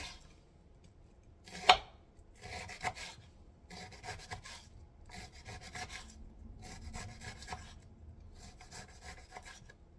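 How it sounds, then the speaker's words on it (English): A knife shreds cooked BBQ chicken into thin strands, repeated quiet rasping strokes in short bursts with one sharper knock near the start, close and soft, no talk. "And shred this by a knife into as thin as possible."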